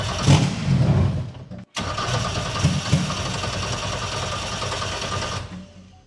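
A Volkswagen five-cylinder engine in a pro drift car cranks, cuts out for a moment, then fires up and runs at a loud, rough, busy idle close by before it shuts off.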